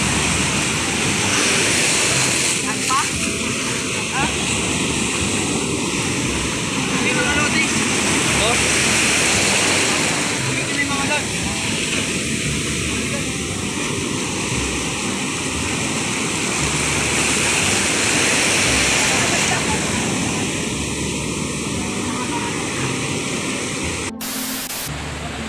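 Large ocean waves rush and wash in a continuous broad roar at a beach where people swim, with a few muffled voices faintly audible underneath.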